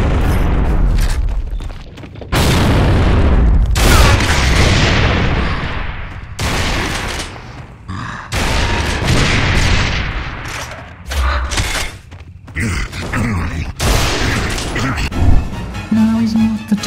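Gears of War combat with a booming frag grenade explosion and heavy gunfire, loud and close, in repeated bursts separated by short lulls, with voices speaking over the battle.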